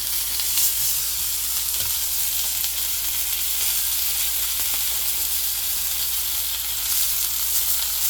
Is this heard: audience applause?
no